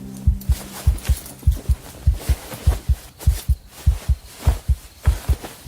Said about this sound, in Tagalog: Sobrang lakas ng kabog ng dibdib niya ng mga sandaling yon.